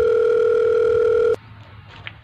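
A steady telephone tone sounds loudly after dialing emergency number 112, then cuts off abruptly, leaving quiet line noise and a faint click.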